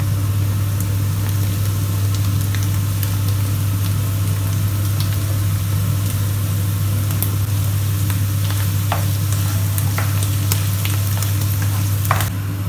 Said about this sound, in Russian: Пока грибочки жарятся